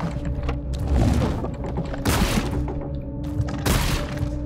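Heavy gunfire, including a super shotgun, aimed at a boss in the grim horror game Scorn, as repeated loud blasts and crashing impacts with a dense rumbling din in between, no voices.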